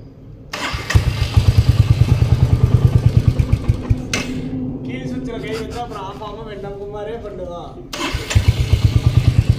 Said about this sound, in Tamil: எக்ஸாஸ்ட் சவுண்டு நம்ம அப்படி கிளம்பலாம். எக்ஸாஸ்ட் சவுண்டு மட்டும் பாருங்கள்.